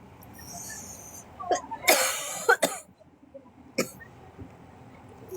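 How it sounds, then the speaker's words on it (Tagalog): A dry, heavy chest cough in a quiet room: a few short, harsh bursts, the loudest pair close together in the middle and a smaller one after, near and fairly loud. "alam mo yung dry cough na sobrang bigat sa dibdib"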